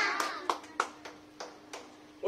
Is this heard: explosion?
no